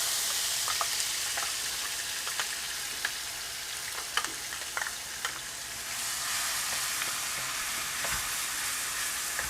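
Spice paste for opor ayam sizzles and fries steadily in a hot pan, a continuous loud crackle with scattered sharper pops and occasional stirring scrapes, no voices.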